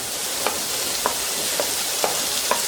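Onions sauté in a hot pan with a steady, bright sizzle, broken every half second or so by soft stirring scrapes; close and alone, with no talk.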